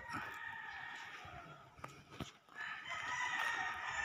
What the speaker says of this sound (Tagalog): ang ingay ng mga manok